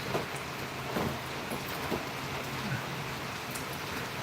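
Midday rain pours down in Mumbai as a constant hiss of drops hitting surfaces, with a few louder patters and a low rumble, and no one speaking.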